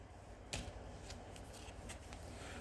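Trading cards handled from a mystery box, including Disney game cards, giving soft rustling and flicking with a few brief crisp snaps, close and quiet over a steady background hiss.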